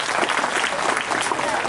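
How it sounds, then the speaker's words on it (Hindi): Audience at a Bhagavat Katha religious gathering giving a loud, dense round of applause for the stage, a continuous wash of many hands clapping with no gaps. "एक बार जोरदार तालियां इस पूरे मंच के लिए बजाएं।"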